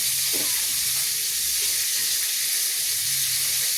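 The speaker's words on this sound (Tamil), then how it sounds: "எண்ணெய் காயுது" Constant hissing sizzle of oil heating in a pan, steady and fairly loud with no talking.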